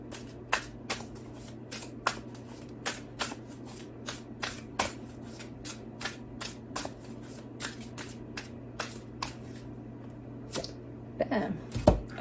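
A tarot card deck being shuffled by hand, giving a long run of crisp, close card flicks and riffles at a quick, uneven rhythm, ending in a denser burst of shuffling, no talking.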